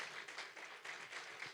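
A church congregation applauds during a sermon, a quiet, fairly steady patter of clapping from a room of worshippers, with no talk over it.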